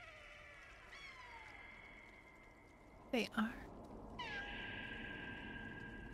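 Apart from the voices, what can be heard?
cats meowing in the video game Stray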